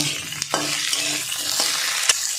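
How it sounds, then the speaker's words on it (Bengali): Garlic, chopped onion and chopped tomato fry in hot oil in a kadai: a dense, loud, continuous sizzle with a few brief stirring knocks, up close and free of speech. "এটা দিয়ে আমি একটু ভালো করে ভেজে নেব।"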